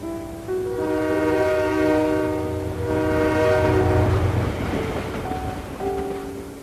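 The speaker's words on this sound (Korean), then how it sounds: "드디어 기차가 죽음 정거장에 도착했다." A train pulls into a station with a loud, sustained horn blast that swells twice over a rumbling, clattering rail bed, fading somewhat near the end.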